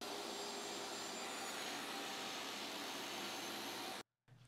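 Power saw whining steadily as it cuts through a simple plywood jig, a loud continuous roar that runs for about four seconds before stopping abruptly, followed by a brief quieter hum.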